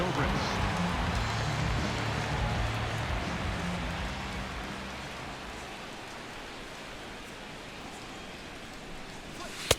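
Heavy rain pours steadily over a ballpark in a Royals versus Cubs baseball video game, a constant broad hiss that fades slightly toward the end.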